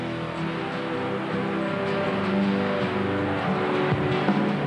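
Rally race vehicles driving on a soft sand track: a continuous loud engine drone with shifting revs and a steady, grinding roar, with no pauses.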